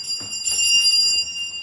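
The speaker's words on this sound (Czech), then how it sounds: "A teď slyšíme signál zvonku" An electric bell rings as a mealtime signal in a shared residential house, a sustained bright ringing with steady high overtones lasting about a second and a half, heard alone without talk.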